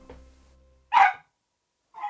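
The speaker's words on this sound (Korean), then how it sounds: "언제부터 짖었어요 저렇게?" An elderly fourteen-year-old dog gives two sharp barks about a second apart, the first loud and clear, the second shorter and softer, in a quiet indoor setting.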